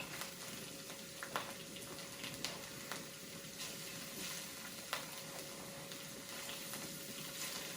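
Purple cabbage frying over medium-high heat in a half-and-half mix of olive and sunflower oil, a steady close sizzle with scattered pops and occasional light clicks, no voices.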